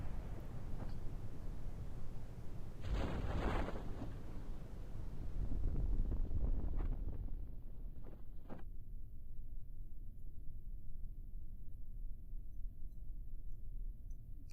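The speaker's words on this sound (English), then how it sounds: "Alright, you can hear my ship exploding." Spacecraft exploding in the video game Kerbal Space Program: broad rumbling blasts and crackling bursts over steady wind-like roar, loudest early on, then settling into a continuous low hum.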